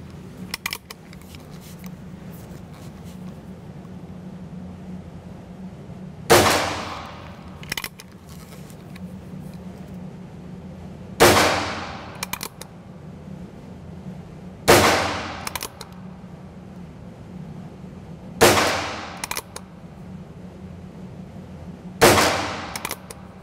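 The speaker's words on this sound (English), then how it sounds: "Fire a couple of cylinders through it." Six sharp gunshots from a Heritage Rough Rider Rancher revolver crack out at uneven intervals several seconds apart, loud and close, over a low steady background hum.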